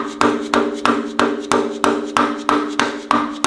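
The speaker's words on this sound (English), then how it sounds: "I'm just going to gently give it a few taps with a dead blow hammer" About ten evenly spaced taps from a dead blow hammer on a metal harmonic damper of a 440 MOPAR 512 stroker engine, each a firm, dull knock with a brief ringing tail.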